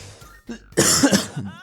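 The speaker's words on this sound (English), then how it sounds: "I just am actually coughing." A man coughs while streaming a game, a short harsh burst of two or three close coughs after a quieter throat sound, loud against a faint background.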